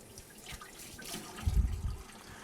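Water splashes briefly onto an orthopedic splint as it is dampened, a soft trickle that swells into a short low wet burst near the end.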